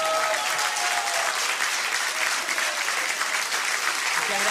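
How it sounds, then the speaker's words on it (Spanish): Steady, dense applause from an audience fills the room, loud and continuous with a few voices underneath. "Sergio Lagos, un aplauso para él."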